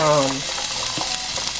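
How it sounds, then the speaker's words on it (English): Vegetables hiss in a hot pan with an even, close sizzle and light stirring, preceded by a short tonal sound at the very start. "Just gonna go ahead and saute them up a little bit."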